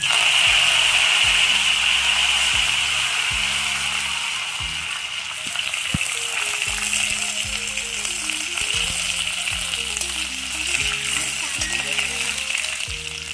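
Curry leaves hit hot coconut oil in a pan of tempered mustard seeds and chilli for a pumpkin pachadi, giving a loud, steady hissing sizzle that fades slightly midway, with a soft melodic tone underneath.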